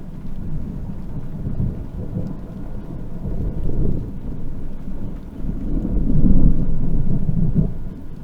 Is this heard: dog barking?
no